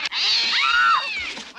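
A cat yowls loudly in a horror movie scene, one long wavering caterwaul that rises and bends in pitch, close and alone with no talk over it.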